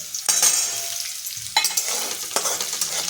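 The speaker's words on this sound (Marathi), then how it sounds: "मिरच्याचा असा कलर येईपर्यंत भाजायच्या आणि त्याच्यात हिंग आणि मीठ टाकायचं." Green chillies roast in a pan with hing and salt, a close crackling sizzle broken by three scraping stirs at roughly even intervals, with no speech.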